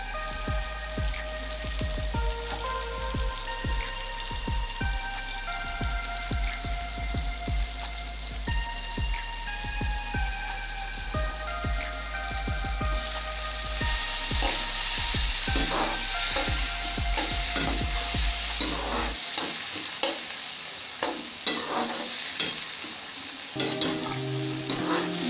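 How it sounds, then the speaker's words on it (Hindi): Chopped tomatoes frying in a pan for bhindi masala, a loud continuous sizzle with scraping stirs throughout, the low stirring knocks stopping near the end while the sizzle carries on alone. "टमाटर डाल के सिर्फ 1 मिनट हम इसको भूनेंगे।"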